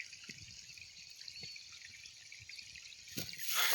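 Water running from a pipe into drip irrigation lines in a maize field, a faint steady trickle with a few soft drips, swelling into a louder rushing flow at the very end.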